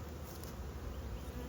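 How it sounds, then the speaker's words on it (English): Honeybees buzz at a hive being fitted with frames, a soft continuous drone close by with no talk. "are the bees climbing in yet?"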